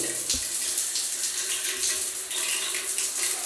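A cold shower in mountain lodging in the Usambara Mountains runs steadily, a bright continuous hiss of spraying water, close and fairly loud, with no voices.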